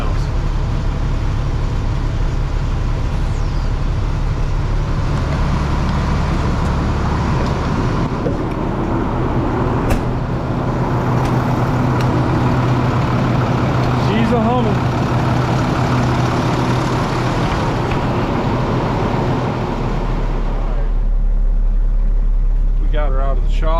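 An International truck with 84,000 miles runs after fitting a new high pressure oil pump, a steady low diesel engine drone continuing throughout with a voice talking over it.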